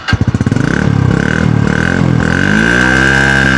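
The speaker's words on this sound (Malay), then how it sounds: "Jom kita dengar bunyi enjin" A Honda Wave Alpha motorcycle engine starts with a few chugging pulses, then runs close and loud, with revving rises and a steady idle hum.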